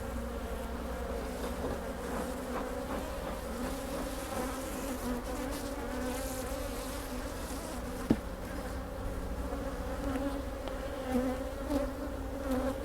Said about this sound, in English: No shortage of field bees in this hive.